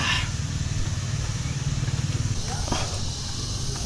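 A heavy motorcycle rumbles close by with a low, steady engine throb as it is eased out along a difficult, dangerous road, with a brief knock or thump near the end.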